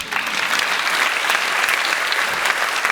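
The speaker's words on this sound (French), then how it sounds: "Vous pouvez tous applaudir notre reine." An audience at a theatre's 2021-22 season presentation claps warmly in a steady, bright burst of applause that holds at an even level for a few seconds, with no voices over it.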